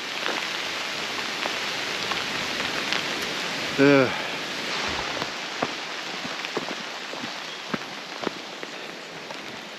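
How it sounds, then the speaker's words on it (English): Rain patters steadily on a hiking trail in the Yorkshire countryside, a dense continuous hiss with scattered louder drops, while a person briefly groans once in the middle. "rain's back."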